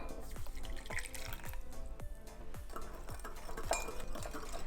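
Warm water runs into a bowl holding a teaspoon of sugar for focaccia dough, with steady liquid pouring and a run of repeated dripping plinks, close and without talk.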